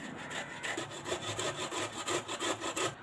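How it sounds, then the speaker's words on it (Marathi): Boiled potatoes are grated on a large grater, a quiet rhythmic scraping of a dozen or so back-and-forth strokes close by, with no talking. "ते मी दोन बटाटे उकडून घेतलेले ते अशा मोठ्या याच्यावर आपण किसून घेणार आहोत"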